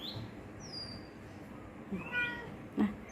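A cat gives a few small, high meows over quiet room noise, one soft call early and a couple of brief mews near the end, while a person speaks softly.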